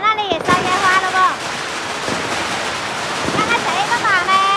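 Fireworks set off at Chinese New Year in Liuzhou, with a few sharp bangs and whistling rockets rising and falling over continuous crackling background noise, while people talk nearby.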